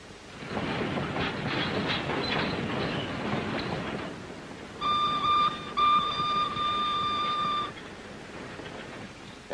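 A 1940s steam train rumbles along a railroad with clattering wheels, then a sustained steam whistle blows for a few seconds before the rolling noise continues.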